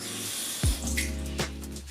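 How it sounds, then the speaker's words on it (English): A kabuki makeup brush is doused in water, giving a short splash and running-water sound, followed by a smaller second splash and a quiet steady trickle. "And I'm gonna douse it in water"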